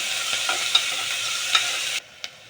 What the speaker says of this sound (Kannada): ಒಂದು ಅಥವಾ ಎರಡು ಈರುಳ್ಳಿ ಹೆಚ್ಕೊಂಡು ಒಗ್ಗರಣೆಗೆ ಹಾಕ್ಕೋಬೋದು